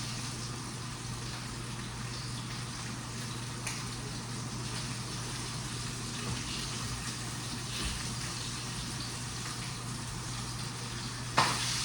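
Chicken frying in a hot pan gives a steady, dense sizzle that holds at an even level for about twelve seconds, with a brief louder crackle near the end and no talk.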